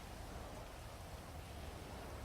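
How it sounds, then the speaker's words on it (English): Pouring rain falls in the city streets of GTA V, a steady even hiss that stays faint and unbroken with no voices over it. "You just wait there in the pouring rain."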